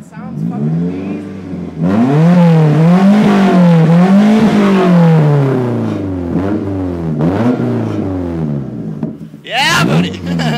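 A 1995 Toyota Celica GTS engine with no exhaust revs hard and raw, its pitch rising and falling in repeated loud sweeps over about eight seconds, then dropping to a lower drone before a final burst; voices chatter faintly underneath.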